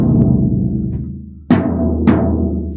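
A drum with a dimpled, damaged head is struck close up a few times, each hit giving a dull, papery thud with a short, flat ring that dies away quickly; no voices.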